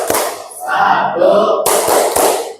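Students in an Indonesian high school classroom perform the Pancasila clap routine, a few sharp rhythmic hand claps breaking through a voice chanting along.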